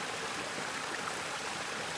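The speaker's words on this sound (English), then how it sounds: "The Bosch dishwasher sprays water at the perfect angle and pressure to remove even the most stubborn masala stains." Bosch dishwasher spraying water inside its wash chamber, a steady, even hiss and rush of water that stays constant and close throughout, with no talking.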